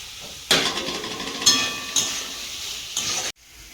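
Potatoes fry in a pan for a home-cooked dish, giving short bursts of sizzling and stirring scrapes, about four distinct surges close up, ending abruptly.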